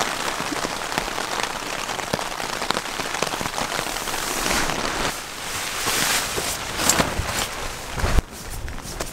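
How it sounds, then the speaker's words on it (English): Steady rain falls continuously on a surface during a long downpour in the Valles Caldera, a dense hiss with scattered closer drops and a few brief louder splashes near the end. "This is the longest continuous rain I've maybe ever been in."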